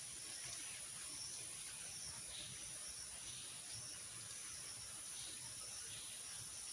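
Water rushes through a brimming village drain, a steady, even hiss of flow that runs unbroken from start to finish, fairly faint, with no one speaking.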